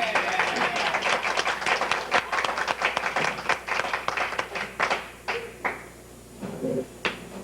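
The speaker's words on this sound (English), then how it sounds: "Give him a big round of applause" Dense audience applause fills a 1989 bowling game show studio, steady at first, then thinning into scattered individual claps and fading near the end.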